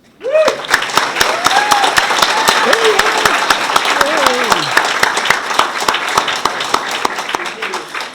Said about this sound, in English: please join me in another big round of applause for all of our high school award winners